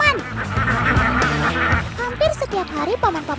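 Alabio ducks on a farm give loud honking quacks in overlapping bursts, close and busy. A voice talks under the flock.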